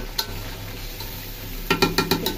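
Chicken being sautéed and stirred in a wok, a faint steady frying hiss followed near the end by a run of quick scraping stirs.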